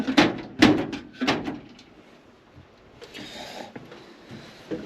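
A few sharp knocks and a clunk near the start, then a quiet pause and a soft sliding rattle as a drawer in a Mercedes Sprinter work van shuts and its latch clicks locked.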